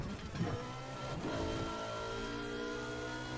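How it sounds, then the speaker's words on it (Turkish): Racing cars in Need for Speed: The Run roar with steady engine drone and shifting revving tones, with brief whooshes of vehicles passing close by at the start. "Araba, çok fazla araba geliyor ya."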